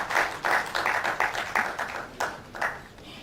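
Audience applause at the opening ceremony of an international ICT conference, a burst of brisk clapping that thins into scattered claps and then rises in a shorter second round.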